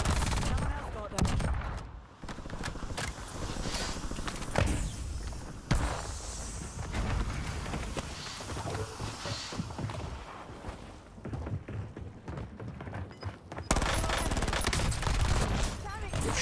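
Rapid automatic gunfire and bursts of shots from the Warzone video game crackle loudly and near almost continuously, with brief lulls and thuds in between.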